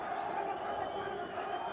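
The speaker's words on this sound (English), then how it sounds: "Fierce support coming from the crowd once again for Ddunana." Boxing arena crowd at a world title fight cheering in support of a fighter, a steady, faint roar of many voices blending into a continuous background hum.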